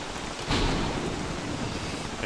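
Steady rain storm in the survival game Don't Starve Together, a dense, constant wash of rainfall with a brief swell near the start, with no talking.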